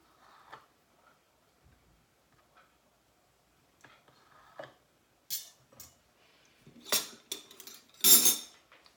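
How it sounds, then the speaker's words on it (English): A knife cutting boiled eggs in half in a bowl, with sparse faint taps early on and then sharper clinks and scrapes of metal against the dish growing louder toward the end, no talk. "Take a bowl and cut the eggs in half."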